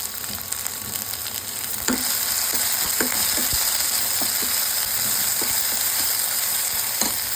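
Ginger, garlic and ground cumin paste sizzles in a pan in a home kitchen, with a constant frying hiss and a few sharp scrapes and knocks of a spoon stirring it, close and fairly loud.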